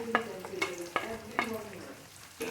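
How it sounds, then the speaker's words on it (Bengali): Chopped onion and native garlic cloves frying lightly in oil in a pan, with soft sizzling and a few sharp scraping stir strokes at a steady, unhurried rhythm, close up and with no talk. "হালকা ভেজে নিয়ে রসুনটা দিব, রসুনের কোয়া, দেশি রসুন এটা।"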